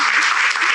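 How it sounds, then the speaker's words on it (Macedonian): An audience breaks into a brief, close burst of dense clapping. "Ау, аплауз."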